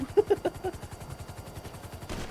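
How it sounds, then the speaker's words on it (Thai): Gunfire in the GTA video game, a rapid string of sharp shots for about two seconds, moderately loud with no talk over it. "เขายิงเราอ่ะปิ้ว"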